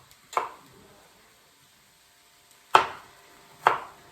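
A kitchen knife chopping vegetables on a board for shakshuka, three crisp separate chops, one early and two close together near the end, with quiet gaps between them.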